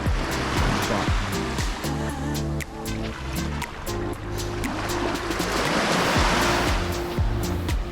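Waves wash onto the shore at Spotts Beach on Grand Cayman, a continuous rushing surf close by that swells and recedes without pause.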